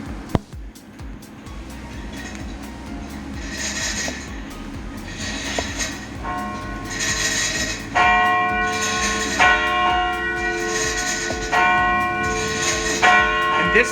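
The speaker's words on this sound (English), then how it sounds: "Way up through that trap door is where the bell is." A large, heavy church bell, pulled by rope, rings repeatedly in slow, resonant strokes, its overlapping tones building and sustaining, with a low rumbling background beneath.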